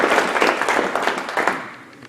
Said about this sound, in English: can we please thank our wonderful panelists with a big round of applause.